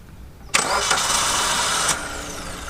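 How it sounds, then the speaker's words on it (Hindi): A Maruti Swift Dzire VXI with a 1.2 litre 4-cylinder engine cranks after a quiet moment, catches with a loud burst and then settles into a softer, steady idle, heard close with no talking. "भाई एक बार इंजन स्टार्ट करना।"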